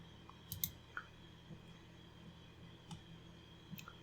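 Faint computer mouse clicks while working in Blender, a handful of small, sharp ticks spaced irregularly over a quiet background hum.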